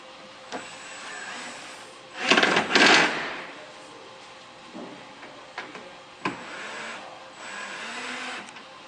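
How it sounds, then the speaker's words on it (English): Screws being driven into a part of a CC-32 mobile chicken coop, heard as a loud, rough mechanical burst lasting under a second, followed by a few sharper knocks and a low steady hum, with no voices. "Then we will screw it in place."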